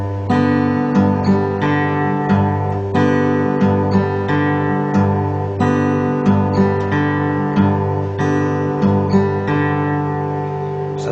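Fingerstyle folk guitar exercise on acoustic guitar with the thumb moved to the sixth string: a repeating plucked arpeggio over a steady low bass thump, close and clean, played alone without speech.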